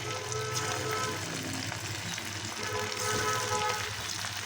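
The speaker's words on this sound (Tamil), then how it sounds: "இப்போ பொரிக்கிறதுக்காக எண்ணெய் அடுப்பில் வச்சுருக்கிறேன். எண்ணெய் காஞ்சிருச்சு. இப்போ நம்ம காலிஃப்ளவர் போட்டுக்கலாம்" Steady, crackling sizzle of cauliflower frying in hot oil, close by and continuous, with no voices.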